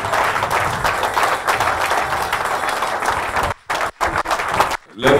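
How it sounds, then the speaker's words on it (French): A church congregation at a Paris convention applauds and cheers to acclaim the Lord, dense sustained clapping and crowd noise that breaks off briefly near the end before resuming. "On acclame le Seigneur, il est bon, il est merveilleux."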